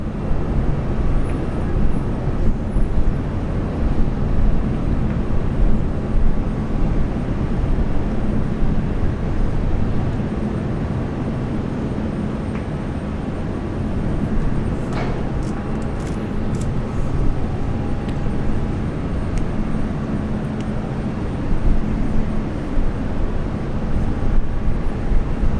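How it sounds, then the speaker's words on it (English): A Virgin Australia airliner landing at Brisbane airport, with a steady, loud roar of jet engine and rushing air that holds for the whole stretch and climbs slightly near the end, alone with no voices. "And the next arrival is Virgin Australia, flight 405 coming in from Adelaide."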